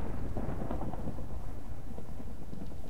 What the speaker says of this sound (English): there's always a consistent kind of thunderstorm going